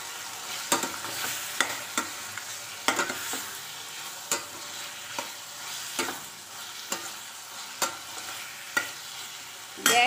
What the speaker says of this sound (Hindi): देखिए मसाला भून गया है, अब मैं ये मशरूम डाल दूंगी।